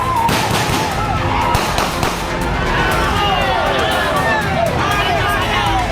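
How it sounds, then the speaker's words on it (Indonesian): Warning shots fired into the air by police to break up dozens of villagers surrounding their vehicles during a crackdown on an illegal gold mine in Luwu. Sharp bangs ring out over the constant roar of a shouting, agitated crowd. "Polisi kembali melepas tembakan peringatan ke udara untuk mengurai kerumunan."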